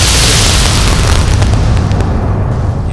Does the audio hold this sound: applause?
no